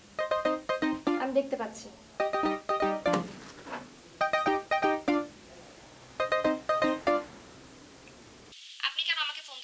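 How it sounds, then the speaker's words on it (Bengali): A mobile phone ringtone plays in repeated bursts of bright melodic tones while people talk over and between the rings. "ম্যাডাম আপনার ফোন বাজতেছে।"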